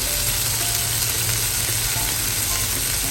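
Gyoza dumplings fry in a pan after water is added, giving a loud, steady, continuous sizzle that fills the whole stretch with no talking.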